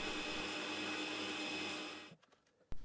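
A small lathe bores out a model aircraft motor shaft to 4.1 mm, giving a steady whirring machining drone that stops abruptly, followed by a few faint clicks and a sharp knock.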